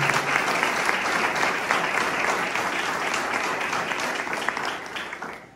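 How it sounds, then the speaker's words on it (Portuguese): Sustained applause fills a church congregation at a Mother's Day service, a thick, even wash of many hands clapping that thins slightly toward the end. "Vamos dar uma salva de palmas para Jesus"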